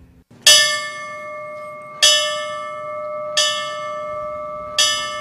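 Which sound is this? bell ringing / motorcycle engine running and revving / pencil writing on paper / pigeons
bell ringing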